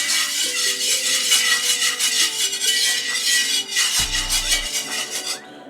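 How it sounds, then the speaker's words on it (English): A whisk scrapes rapidly and rhythmically through Georgian Shkmeruli sauce with ground coriander seed, giving a close, busy rasping over a soft tonal background. "we're gonna whisk everything together"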